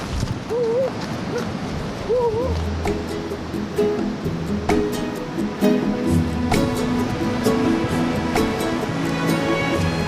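Strong surf breaking along Tofino beach in Canada, a steady broad roar of waves up close, with brief human vocal sounds and a low hum over the wash.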